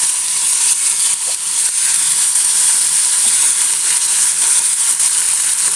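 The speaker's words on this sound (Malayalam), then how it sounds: "നമുക്ക് മീനൊന്ന് വറുത്തെടുക്കാം." Sardines frying in coconut oil with curry leaves, a steady close sizzle with bright spattering hiss that holds evenly throughout, no voices.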